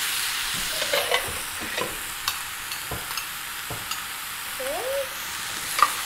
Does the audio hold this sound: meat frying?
yes